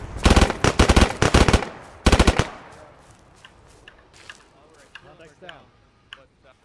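Rapid automatic gunfire from the combat video game Squad comes in two loud, close bursts at the start, followed by fainter distant shots and crackling while voices talk over radio chatter.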